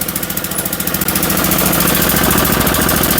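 A snowblower engine runs loud and close with a steady, throbbing idle that shifts to a fuller, continuous roar about a second in, as the auger drive is engaged.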